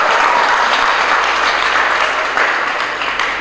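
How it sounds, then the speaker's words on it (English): A school debate championship audience applauds loudly and steadily, a thick, close wash of clapping that barely eases over a few seconds. "Please clap for yourself."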